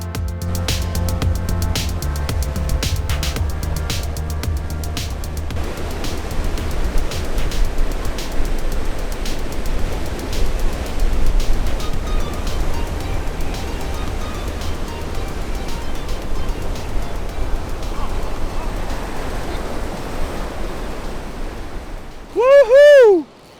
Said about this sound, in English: It's moving really fast, the water.